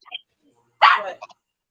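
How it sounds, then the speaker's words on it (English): A single short dog bark sounds close and fairly loud, preceded and followed by faint brief yips or voice fragments in otherwise quiet surroundings. "Why am I hearing a dog?"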